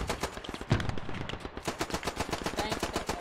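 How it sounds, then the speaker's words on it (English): Heavy machine gun fire in the WWI shooter Beyond the Wire, rapid continuous bursts of loud shots with a few heavier impacts, close and dense over a battlefield din. "Heavy machine gun down."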